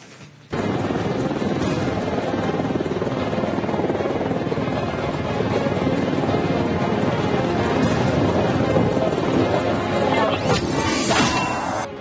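Apache attack helicopters are flying, a loud continuous rotor roar with a rhythmic chop that starts abruptly and holds steady and close throughout, with a brief clatter near the end.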